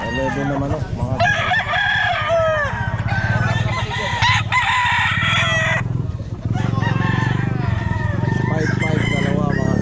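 A crowd of chickens clucks and squawks nearby, with roosters crowing repeatedly throughout at an outdoor pet market; a voice talks underneath the flock noise.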